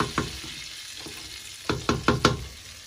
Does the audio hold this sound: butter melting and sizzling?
yes